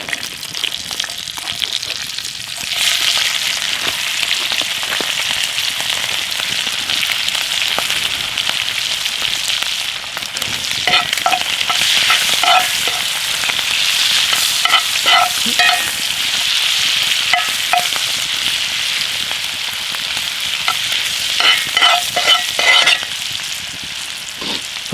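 Shrimp fry in garlic-infused butter in a pan, giving a loud, continuous close-up sizzle with crackling spatters and bursts of popping that rise and fall throughout, with no talking.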